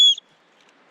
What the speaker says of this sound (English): I have my nifty whistle here.